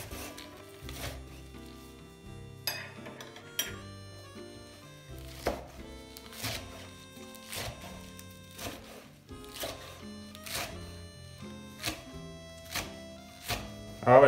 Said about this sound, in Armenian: իսկ մնացածը իհարկե կտրատում ենք մանր